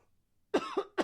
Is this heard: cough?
yes